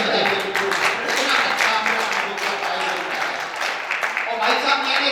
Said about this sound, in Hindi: विपुल जी के सम्मान में भी जोरदार तालियां बजाइए